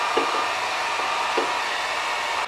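A heat gun blows on vinyl wrap being stretched over a Stevens 67E shotgun stock, giving a steady, close airy hiss with a couple of faint soft taps.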